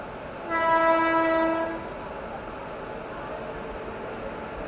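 A train horn blasts once for about a second, loud and steady with a rich stack of tones, then cuts off, leaving a low rumbling hum, heard from a stationary express train as the Bangalore Rajdhani Express passes by.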